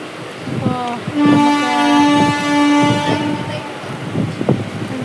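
A train passes close by in Ernakulam, its horn sounding a long steady blast over rumbling wheels and rhythmic clacking.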